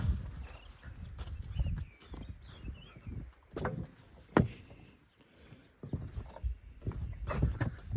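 Draft horse hooves clip-clop steadily along a road over a low rumbling background, the rhythmic clopping fairly close.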